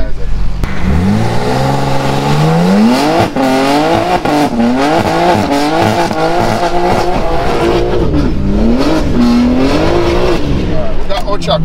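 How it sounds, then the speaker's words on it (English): A BMW G80 M3 in rear-wheel drive mode does a burnout: the engine revs loud and close in rising and falling sweeps over the tires squealing and spinning, sustained for the whole stretch. "I'll try to do a little burnout."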